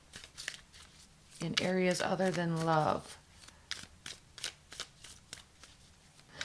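Tarot cards shuffle in a dense riffle lasting about a second and a half, followed by lighter card flicks and handling while someone talks over them.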